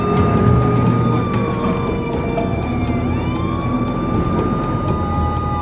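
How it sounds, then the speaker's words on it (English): An ambulance races along a road with its siren wailing, the rising and falling tone sustained over steady engine and road rumble, close and continuous. "As the ambulance races"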